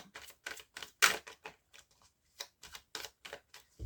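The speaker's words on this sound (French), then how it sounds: "On va commencer par une coupe." A green-magic tarot deck by Anne Moura being cut by hand, a quick series of crisp, close card snaps and taps in an irregular rhythm against a quiet background.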